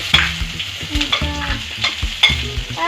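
Squid sautéed and stirred in a hot pan with garlic for adobong pusit, giving a close, steady sizzle broken by repeated scraping stirs of the spatula at a quick, uneven rhythm.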